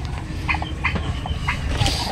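Turkeys in a backyard flock make short, repeated gobbling and clucking calls at irregular intervals over a low, continuous rumble of background noise, with no one speaking.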